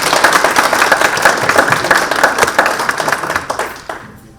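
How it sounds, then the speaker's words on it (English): Loud, close crowd clapping from a morning forum audience, a dense rapid patter that holds steady and then thins out and fades toward the end. "Let's give them a big clap."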